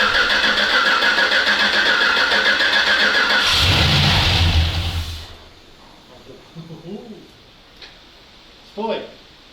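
A ZIL-131 truck fitted with a Chevrolet engine and automatic gearbox cranks and fires up loudly, running roughly for a few seconds before cutting out abruptly, followed by quieter clanks and people talking nearby.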